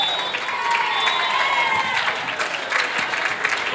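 A home crowd at a high school volleyball match breaks into loud, sustained applause and cheering right after a set-winning serve, a dense wash of clapping filling the gym.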